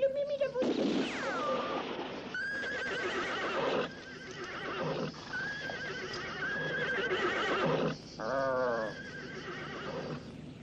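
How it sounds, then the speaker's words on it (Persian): A horse whinnies in long, shrill, wavering calls that ring out in a valley, several neighs spread across the stretch with echoing tails and some clip-clop of hooves, loud and near. "شیهه تو به من فهمون که در این دره صدا انعکاس پیدا میکنه"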